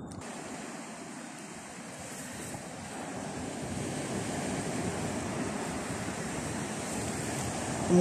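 Sea waves wash onto the beach at Gagra, Abkhazia, a steady broad surf roar mixed with some wind, swelling slightly louder toward the end and heard alone with no talking.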